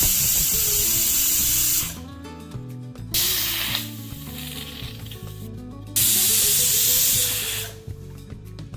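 A pressure cooker cooking urad dal vents loud hissing steam whistles in long bursts, alternating with quieter stretches of steady tonal hum, repeating about three times close by.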